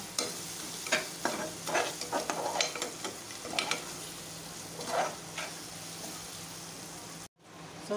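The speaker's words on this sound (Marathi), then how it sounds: "लसूण अद्रकची पेस्ट पण चांगली परतून घेऊया." Garlic ginger paste frying in a pan for a prawn biryani made in a pressure cooker, with a steady soft sizzle and occasional scraping stirs, close and fairly quiet, with no talk, ending with a brief cut to silence.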